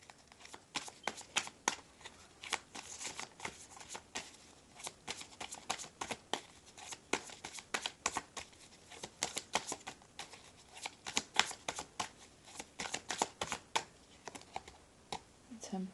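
Tarot cards are shuffled and handled in quick, rapid bursts of flicking and slapping, repeating steadily and close by.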